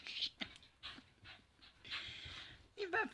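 A dog pants and whimpers in short, faint bursts, with breathy huffs and a thin high whine near the end.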